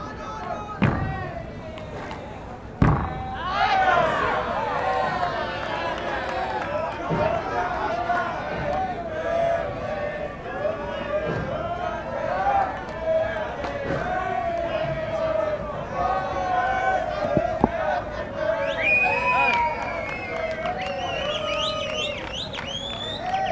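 A noisy crowd at a women's three-wall ball handball final, cheering and shouting loudly and steadily, with ball slaps and an announcer speaking over the din.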